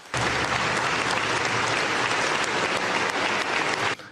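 A large crowd in a parliament applauds steadily for about four seconds, a dense, sustained clapping that starts and stops abruptly.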